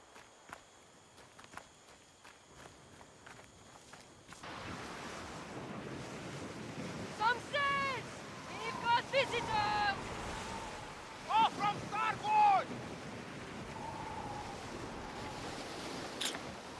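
Wind and ocean surf rush steadily in a Skull and Bones pirate video game, a soft ambient wash with occasional footsteps and a few faint bird calls layered over it, no speech.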